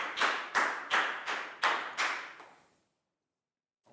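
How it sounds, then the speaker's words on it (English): Six short bursts of clapping from a small classroom group of Year 4 students, evenly spaced, each fading quickly before the next, then the applause trails off into quiet. "a big round of applause for Nadia"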